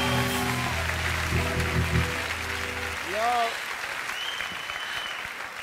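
A television talk-show studio audience applauds the guests with loud, sustained clapping for about three seconds before it fades, while a voice speaks over it and talk continues afterward.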